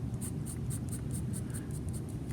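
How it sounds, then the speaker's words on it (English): Repeated short scratching strokes as a blade scrapes lines into a scratchboard drawing, around ten quick rhythmic scrapes over a steady low room hum, close and clear with no talking. "This time, you have to scrape more to make it lighter."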